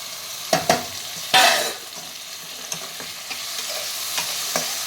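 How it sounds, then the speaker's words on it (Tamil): Tomatoes sautéing in a pan for chicken curry, with a few sharp spoon scrapes and knocks at the start over a steady, close sizzle of frying, and no talk. "தக்காளி சேர்த்து நல்லா வதக்கலாம்"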